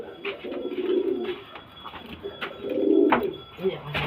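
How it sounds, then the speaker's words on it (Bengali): Female pigeons cooing in a loft, repeated soft throaty coos, close by, with someone talking between and over them. "এগুলো সব মাদা পায়রা"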